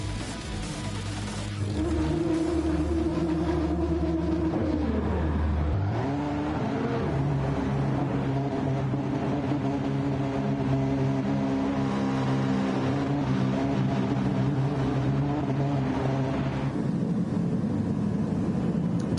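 Audi R18 race cars sit revving their engines in Gran Turismo 7 before a Le Mans race, a steady loud mechanical drone with a pitch that dips and climbs as the engines are blipped, continuous for the whole stretch.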